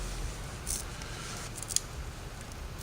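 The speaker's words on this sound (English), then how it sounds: "There will be some trimming to be done" Scissors trim a piece of leather up close, giving a few faint, crisp snips over a quiet background hiss.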